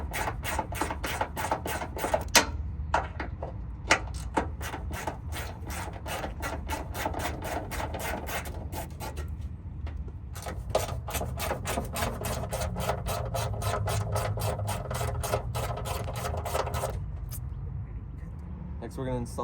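A socket ratchet works a bolt loose during a hood strut install on a first-generation Honda CR-V, giving off a long run of quick, regular clicks that pause briefly, then resume close by.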